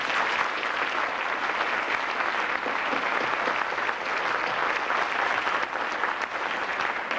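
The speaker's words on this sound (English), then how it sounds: "I think they all deserve a hand of applause" An audience at a town meeting applauds the town staff, a continuous wash of many hands clapping at a steady level for several seconds, with no speech over it.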